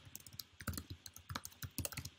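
Rapid typing on a computer keyboard, close and clear, with irregular bursts of key clicks and no voices.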